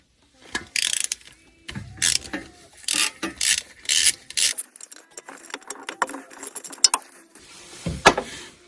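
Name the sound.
socket ratchet loosening coil pack bolt on Porsche Cayman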